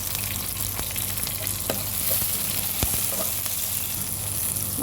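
Green chillies and curry leaves frying in oil in a pan, a continuous crackling sizzle with a few sharp pops and stirring scrapes, close and steady.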